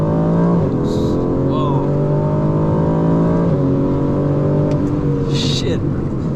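An Aston Martin Vantage engine revs hard and climbs through the gears, loud and close from inside the car, with a brief shift dip and a man's exclamation over the roar.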